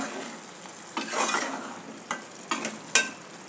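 Chicken frying in a pan with coriander powder and chili powder for a Rayalaseema-style brinjal curry, giving a steady close sizzle broken by a few sharp scrapes and clinks of stirring.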